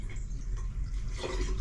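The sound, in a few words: water poured into plumbing, dripping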